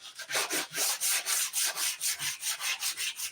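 Very fine sandpaper rubs along the edge of a wooden top in about a dozen rhythmic back-and-forth strokes. Each pass gives a close, loud, even scratch with no talking.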